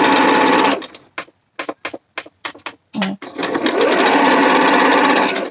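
A sewing machine stitches a zigzag on fabric, starting with a long loud run, then a series of short stop-start bursts, before settling into another sustained close whir.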